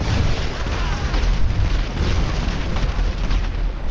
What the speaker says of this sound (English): Let's try some missiles, shall we? Jericho missiles.